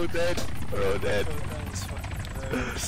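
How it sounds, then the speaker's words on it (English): A helicopter in the Arma 3 video game drones with a steady rotor thrum beneath close, overlapping chatter from players. "I can hear another chopper"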